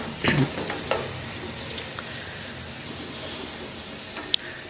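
Noodles cook in a pan over a steady low sizzle, with a few scraping stirs near the start and an occasional light clink, no voices.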